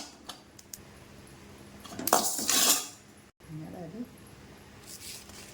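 A utensil scrapes and clatters against a pan as whole spices such as cumin and pepper are stirred and roasted, giving short bursts of metallic rustling and stirring.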